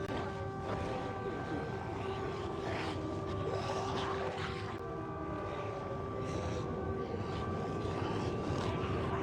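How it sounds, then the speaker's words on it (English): Jet engines of an airliner in Project Zomboid whine with a steady turbine tone under a broad roaring rush, continuous and moderately loud. "You can hear the plane's jet engines, the turbines."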